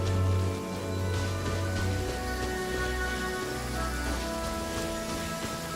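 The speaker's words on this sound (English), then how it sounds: "If this rain keeps up, my fur will be dripping wet." Steady rainfall in the video game Genshin Impact, a dense, even patter on surfaces with a low rumbling layer beneath, continuous and fairly loud throughout with no voices.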